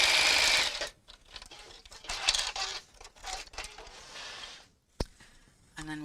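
A sewing machine stitching an evening bag lining, running in short loud bursts of rapid needle chatter separated by pauses, with a sharp click and a brief rustle of handling near the end, close by.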